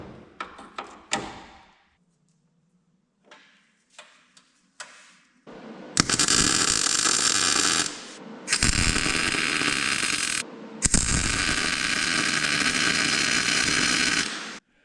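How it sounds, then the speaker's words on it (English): A metal brake lock bracket being welded, starting with a few clicks and taps, then three long bursts of loud steady crackling buzz separated by short pauses. "Okay, we gotta weld that bracket in there."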